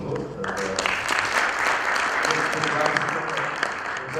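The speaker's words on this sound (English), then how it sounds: "Round of applause." A conference audience gives a steady round of applause, dense clapping that holds at an even level throughout with a few voices faintly mixed in.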